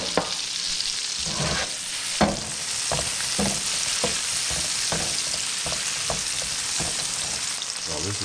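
Peppers and mushrooms fry in butter for a Philly cheesesteak, a loud close-up steady sizzle broken by the scrapes and knocks of stirring.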